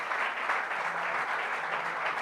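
A church congregation applauds with steady, dense clapping that sounds somewhat distant and fills the whole short stretch without any talk.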